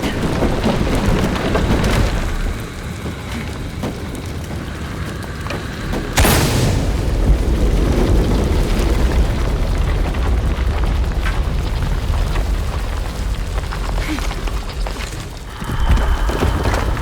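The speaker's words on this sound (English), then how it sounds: "Another explosion would raise the platform." A loud explosion in Shadow of the Tomb Raider bursts out partway through, followed by a heavy rumbling roar as a platform rises, over a constant rain-like ambient wash.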